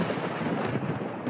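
A thunderstorm sound effect from an energy drink commercial: a dense, loud, continuous rumble of thunder and rain, broadband and steady with no talking.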